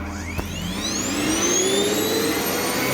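A Hoover 2200 watt vacuum cleaner motor runs steadily and loudly close by, its whine rising in pitch as it spins up and then holding a strong continuous drone.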